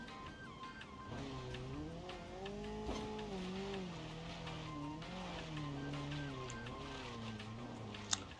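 A Paykan car in the BeamNG driving game revs hard and steadily, its engine tone rising and falling under full throttle with faint tire noise, alone and fairly even in loudness throughout.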